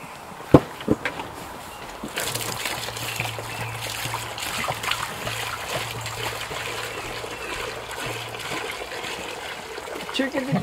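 On a farm, after a couple of sharp knocks, fresh water pours and splashes steadily into a trough for several seconds, close by, with a low hum underneath.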